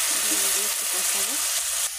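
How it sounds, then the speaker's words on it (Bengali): Masala paste sizzling in a hot pan in a home kitchen as it is sautéed, a steady loud fry with a faint voice-like murmur running beneath it. "একটু কষাবো।"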